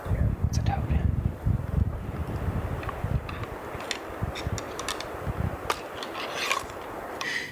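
Gusty, cold wind roars and buffets a microphone with low rumbling bursts, joined by scattered rasping and rubbing noises, steady throughout, outdoors on public hunting land.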